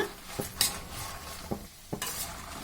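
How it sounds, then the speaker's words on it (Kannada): Green chillies roasting in a little oil in a pan on low gas for coriander chutney, a soft sizzle broken by several sharp scrapes and clinks of a spatula against the metal, close and with no talk. "ಮೆಣಸಿನ್ಕಾಯಿ ಹುರ್ಕೊಳ್ಳೋದು ಗಮ್ ಅಂತ ಘಮ ಬರುತ್ತೆ, ಆಗ ತೆಗೆದು ಬಿಡೋಣ."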